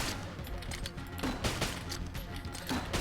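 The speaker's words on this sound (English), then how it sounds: "Unnecessary explosions." Rapid gunfire and bursts of explosions from the video game Enter the Gungeon crackle in dense, overlapping volleys, steady and loud across the whole stretch.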